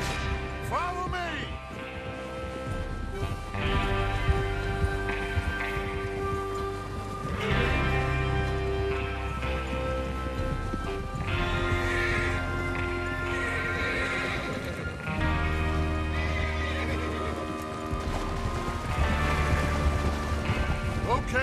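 Horses from the video game Red Dead Redemption 2 gallop in a steady, heavy clip-clop rhythm, with a few whinnies on top and a music score playing underneath throughout.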